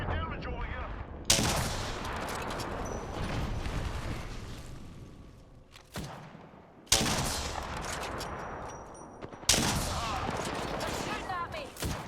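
Automatic weapons fire in the mech shooter Gundam Battle Operation 2, loud sustained bursts of rapid shots broken by brief pauses, with a lull of quieter battle noise between volleys.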